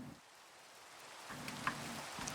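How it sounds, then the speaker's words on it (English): Steady rain hisses in the Minecraft video game, a soft, even wash of falling drops with a few faint pattering taps, quiet and continuous with no voices. "Get rid of this rain."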